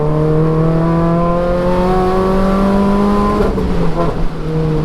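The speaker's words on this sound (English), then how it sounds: "Sounds like a little rally car, it's sick." A small Renault Clio road-legal rally car engine revs loudly up close, its pitch climbing steadily, with a brief rougher burst near the end.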